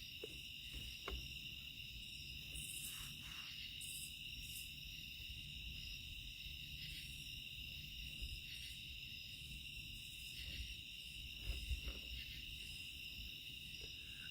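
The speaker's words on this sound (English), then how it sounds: "all I've heard is crickets out here, and I mean it literally" Steady, continuous cricket chirping fills a quiet night, with a high insect trill holding throughout and no voices.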